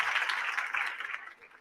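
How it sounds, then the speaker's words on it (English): A short applause sound effect played on a live talk stream, a dense patter of clapping from a crowd that fades out over under two seconds. "I'm going to give them a round of applause as soon as I find it."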